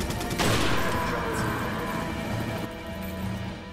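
Gunfire from the video game Resident Evil 4 in a dense, loud burst of shots with a sharp onset, ringing on through the rest of the moment without speech.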